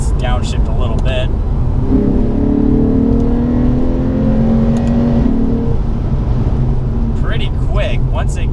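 The V8 of a Lexus RC-F coupe with an 8-speed automatic pulls hard after a downshift. Heard from inside the cabin, its tone climbs steadily over several seconds above a constant road roar, then settles.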